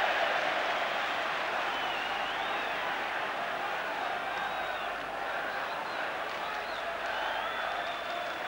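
A large football crowd at an FA Cup third-round match between Liverpool and Newcastle United keeps up a steady, dense roar of murmuring and cheering, with faint whistles drifting over it, continuous and evenly loud throughout.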